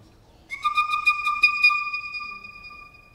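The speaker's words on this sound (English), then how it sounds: "I did the carving to come up with these tones that come out of these bone whistles." A carved deer-bone Native American whistle gives a clear, high, pure tone with a strong overtone, starting in a quick fluttering run of pulses, then holding a steady note that slowly fades, heard alone.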